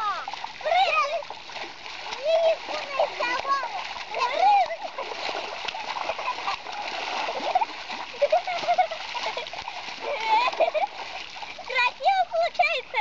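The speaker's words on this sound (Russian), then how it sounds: "Брызги сильнее." Strong water splashing in a village during the school holidays goes on continuously and close by, with children's voices playing and calling over it throughout.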